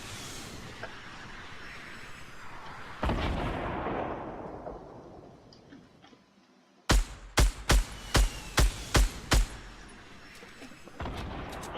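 In a Fortnite match, a burst of loud close gunfire is followed by seven sharp, evenly spaced rifle shots cracking in quick rhythm, with rumbling game ambience and a distant blast earlier on.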